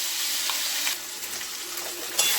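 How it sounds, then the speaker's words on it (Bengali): Ground ginger and green chili paste frying in a hot pan, a bright, steady hiss of sizzling with a few light clicks and a sharper burst near the end. "এবার এর মধ্যে দিয়ে দেবো বেটে রাখা আদা কাঁচা লঙ্কা বাটা।"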